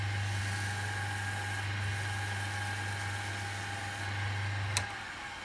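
Woodturning lathe spinning a bowl blank, a steady low motor hum with a constant drone throughout, a faint rattle and a brief click near the end, heard outdoors-adjacent with a soft hiss in the background.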